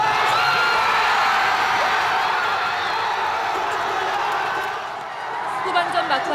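A large crowd cheers and whoops steadily at Gwanghwamun Square in Seoul during a South Korea versus Portugal World Cup football match. The dense roar holds loud and continuous throughout, easing slightly near the end.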